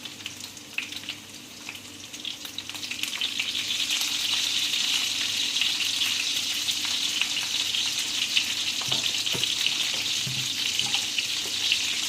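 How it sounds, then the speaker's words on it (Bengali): Cut potato pieces fry in hot oil, a strong continuous sizzle that swells after a quieter start and holds steady, with occasional soft stirring knocks and no speech. "আলুটা এইভাবে পিস পিস করে কেটে আমি তেলের মধ্যে ভাজছি"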